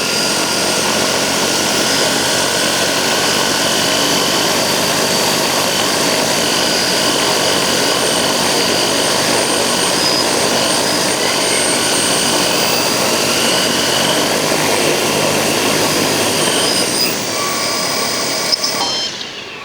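Small 3D printed drone propellers spin up to takeoff on a maiden flight, a loud, steady whirring buzz close by that holds for the whole stretch and dips slightly near the end.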